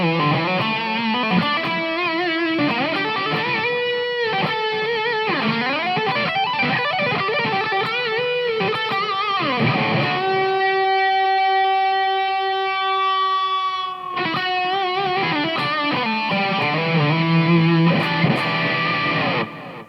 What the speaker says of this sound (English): So this is Marshall JCM 800, and effects-wise, again, we've got some delay and reverb.